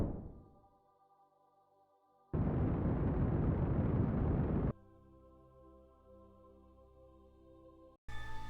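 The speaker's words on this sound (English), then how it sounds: "Fireworks display." Fireworks go off in a video game: a loud, sustained rushing burst lasting a couple of seconds, followed by a quieter ringing tonal tail and a sudden new blast at the end, with no talking.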